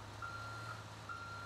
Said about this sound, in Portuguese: A gente pode continuar aqui dando a ré no ônibus